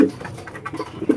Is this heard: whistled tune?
no